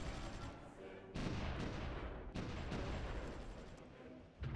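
Artillery fires in the World War I strategy game Supreme Ruler The Great War, a few heavy booming blasts that rumble on between shots, with no talk.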